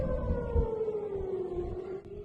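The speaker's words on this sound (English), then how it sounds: "Sorry about the siren." A civil defense air raid siren wails steadily during a rocket attack from Lebanon, a loud, continuous, slowly falling tone that carries over a rumbling background.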